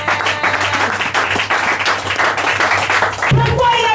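A church congregation claps and applauds in a steady, dense patter, fairly loud and close, with voices mixed in throughout.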